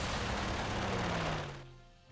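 Strafing gunfire in a World War II wargame, a dense, loud burst of rapid shots that runs steadily for over a second and then fades out with a falling tail.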